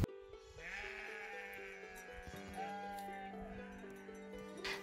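Sheep heading home to their fold in rural Nepal bleat repeatedly, overlapping calls near and far over a steady background hum.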